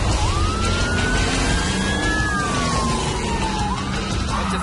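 A stunt car accelerates hard to recreate a sudden U-turn, its engine whine climbing and then slowly easing in pitch over a continuous, loud bed of road and motor noise.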